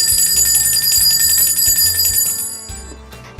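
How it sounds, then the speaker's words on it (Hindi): Small hand bell rung during Ganpati puja at home, a bright rapid ringing that keeps going for several seconds with a low rhythmic thumping underneath, then stops and leaves a quieter tail. "अब ये घंटी बजाएंगे हम गणपति बप्पा के भोग लगाने के लिए।"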